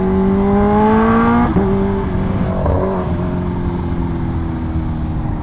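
A Kawasaki H2R motorcycle pulls hard, its engine note climbing as it accelerates loud and close before the pitch drops and settles into a lower steady drone.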